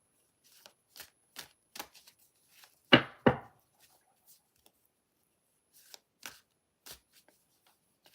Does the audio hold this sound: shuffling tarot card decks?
yes